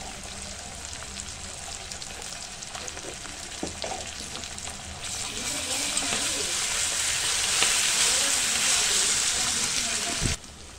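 Ginger-garlic paste and fresh coriander sizzle in hot oil in a pan while sambar is prepared, a steady frying hiss that grows louder and fuller partway through, with light stirring clinks, before cutting off abruptly near the end.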